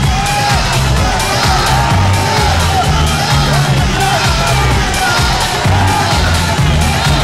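A sellout boxing crowd of 12,500 in London roars and cheers for Prince Naseem Hamed vs Tom Johnson, a dense, loud, continuous wall of shouting and whoops with a commentator's voice talking over it.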